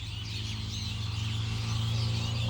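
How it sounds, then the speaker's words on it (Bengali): Many birds chirp and call together at dawn on a farm in Manikganj, a dense steady chorus of overlapping tweets with a low continuous hum beneath, growing slightly louder over time. "ভোরবেলায় পাখির কিচিরমিচির শব্দ"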